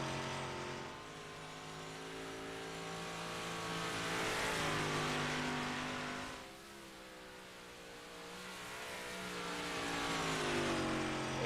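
Sprint cars on practice laps at Knoxville dirt track, a continuous roar of multiple engines with harmonic revving that rises and falls as cars pass, loud and sustained without any talk.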